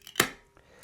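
A can of Loch Lomond Brewery Silkie Oatmeal Stout cracks open with a single sharp pop and hiss, close and brief, followed by near silence.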